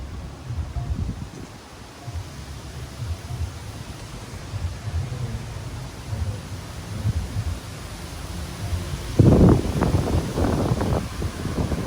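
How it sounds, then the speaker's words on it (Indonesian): Strong morning wind gusts through tree leaves at Buperta Cibubur campground, a steady low rustling roar with a louder burst of rushing leaves near the end. "Wah, ini angin cukup kencang nih hari ini"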